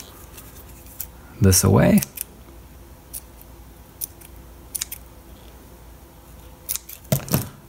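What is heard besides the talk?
scissors trimming thread on a sewn doll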